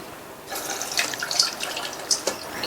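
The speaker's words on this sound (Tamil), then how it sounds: "இப்போ இதில் உள்ள தண்ணியை வடிகட்டிடலாம்." Water draining from soaked flattened rice (poha) in a kitchen, a soft trickling and splashing flow with a few louder drips, starting after a brief quiet moment.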